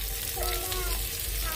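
Garlic, green chilli and onion hit a hot pan on a wood-fired stove, giving a steady, close hiss and crackle of frying with faint stirring, no pauses.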